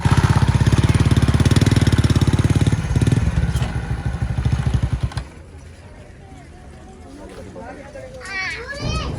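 A motorcycle engine drones loudly and steadily for several seconds, then drops away, leaving quieter background with children's voices and chatter.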